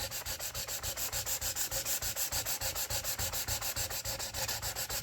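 Rhythmic back-and-forth strokes of 80-grit sandpaper rubbing through a polyurethane finish on a plywood Stratocaster guitar body, close and steady with even repeated passes.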